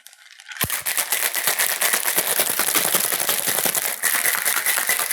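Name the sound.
cocktail shaker shaken with ice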